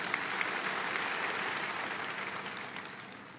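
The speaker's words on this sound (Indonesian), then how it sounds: "Tepuk tangan yang keras untuk Tuhan." A church congregation applauds during a worship service, a steady dense wash of many hands clapping that holds for several seconds at moderate distance and fades slightly toward the end, with no speech.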